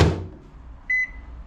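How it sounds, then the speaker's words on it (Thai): A microwave oven set to reheat steamed food gives a short thud as it starts, then a single clear electronic beep, with a faint hum in a quiet room. "ใส่ไมโครเวฟอุ่นเอาเลยนะครับผม"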